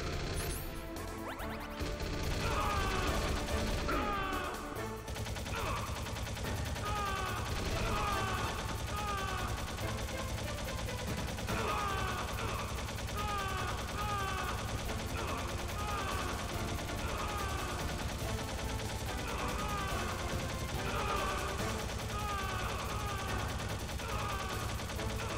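Sustained machine gun fire in Metal Gear Solid, rapid repeating bursts over a loud, dense game soundtrack and effects that run nearly the whole time.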